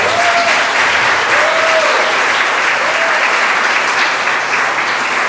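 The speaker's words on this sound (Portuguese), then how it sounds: "E uma salva de palmas mais uma vez, pessoal, por favor." Steady applause from a lecture audience, dense and continuous throughout with a few faint voices rising over the clapping.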